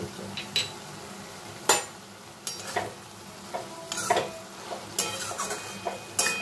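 Shapla stems cooking with sugar in a pan are stirred with a utensil, giving scattered scraping clinks against the metal over a soft, steady sizzle.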